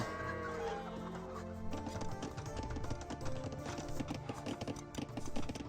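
Knights' horse hooves in Age of Empires 2: Definitive Edition, a quiet, steady clip-clop patter mixed with clucking fowl and game ambience.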